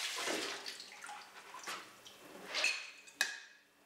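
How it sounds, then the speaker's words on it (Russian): Watermelon seeds being rinsed under running water, a soft irregular splashing and trickling with brief clinks of seeds against a container, moderately quiet and close, with no talking. "Затем промойте семена под водой."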